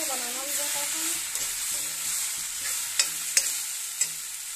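Bathua greens stir-fried in a pan for saag bhujia, a continuous moderate sizzle under occasional spoon scrapes and a few sharp taps near the end, with nobody talking.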